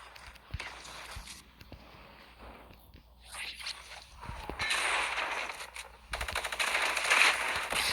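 Rapid automatic weapon fire in a video game during an infinite rocket ammo glitch, with bursts of gunfire and impacts that grow louder and denser toward the end, and a faint voice in the background.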